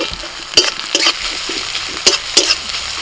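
Three broken green chillies frying with chopped onion and garlic in oil, a loud, close sizzle punctuated by a handful of sharp metallic spatula strikes against the pan.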